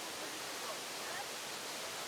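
Kuang Si waterfall near Luang Prabang, Laos, gives a steady, dense roar of falling water with no breaks, filling the whole scene at an even level.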